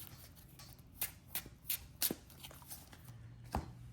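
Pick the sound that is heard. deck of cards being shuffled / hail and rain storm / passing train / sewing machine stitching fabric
deck of cards being shuffled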